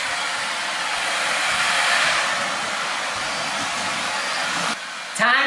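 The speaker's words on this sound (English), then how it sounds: "Time to vacuum" A vacuum cleaner runs loud and close in a kitchen, a steady rushing whoosh that dips briefly near the end before surging again.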